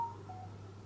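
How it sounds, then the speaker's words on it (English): Mobile phone notification chime, a short faint tone at the start that fades over a steady low electrical hum, quiet and alone with no talk. "Sorry, that's my phone going off."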